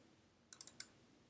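A short burst of four crisp keystrokes on a computer keyboard, close and fairly quiet, in an otherwise silent room.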